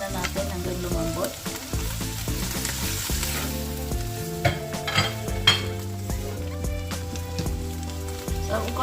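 Mushrooms and boiled chicken sizzle steadily in a frying pan for a creamy spinach noodle dish, with a constant crackling hiss and occasional stirring clatter, no voices.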